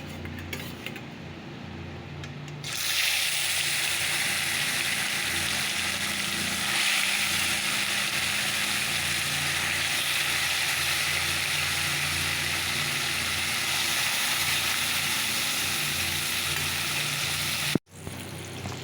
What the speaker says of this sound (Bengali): আজকে ইলিশ মাছটা আমি সর্ষের তেল দিয়ে করবো তো চলো মাছটাকে ছেড়ে দেই